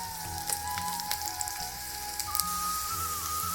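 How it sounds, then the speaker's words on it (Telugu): Chopped onions with cardamom, cloves and cinnamon sizzle in hot oil, a quiet steady frying hiss with a few soft pops and clinks, no talking. "ఆయిల్ హీట్ అయిన తర్వాత చాపుడ్ ఆనియన్స్ వేసుకోండి తర్వాత ఇలాచి లవంగం దాల్చిన చెక్క అన్నీ యాడ్ చేసుకోండి"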